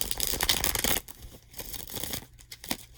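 Tarot cards shuffled by hand, close crisp riffling and papery flutters in a burst, then softer intermittent card slides and taps.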